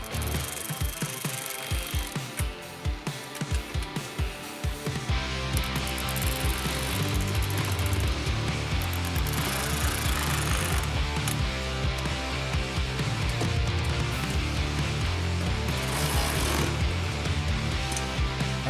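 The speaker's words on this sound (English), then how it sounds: "Use a 10mm socket to thread in the nut further" A 10mm socket wrench threads a nut onto a running-board bolt on a 2024-2026 Chevy Silverado, with quick ratcheting clicks for the first few seconds before steady background music takes over.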